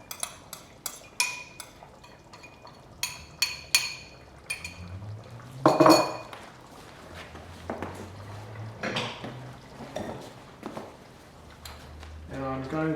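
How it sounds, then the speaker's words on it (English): Stew thickened with cornflour being stirred in a pot, with clear clinks of a utensil against metal and some pouring liquid, close by, while people talk. "And I'm going to give that a stir now."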